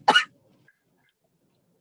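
A single short, sharp cough from a sick child in a hospital pediatric ward, close and fairly loud, followed by near silence.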